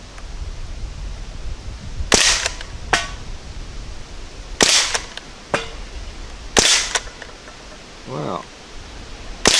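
An Umarex Ruger 10/22 air rifle fires at cans from about 10 meters, giving three sharp pops spaced a few seconds apart with a fainter snap between them, against quiet outdoor background and a brief spoken word.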